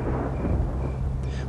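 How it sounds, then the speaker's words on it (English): A deep, low rumble of thunder rolls steadily through a children's storybook scene, a sustained heavy roar with no talking over it. "Just then, there was a deep rumble of thunder."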